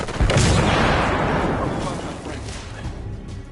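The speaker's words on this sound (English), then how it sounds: "Grenade!" A grenade explodes loudly in The Order: 1886, a heavy blast whose rumbling roar fades slowly over a few seconds amid the noise of battle.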